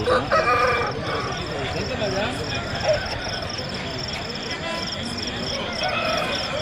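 Roosters crow repeatedly at a busy poultry market, the calls steady against a dense crowd murmur with clucking fowl and people talking throughout.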